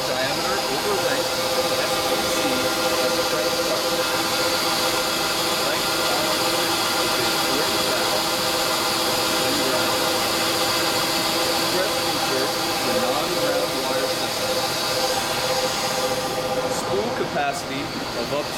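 A Royal Master spool to spool grinding system for weld wire running, a steady loud mechanical hum with whining tonal layers and constant machine noise, unchanging throughout.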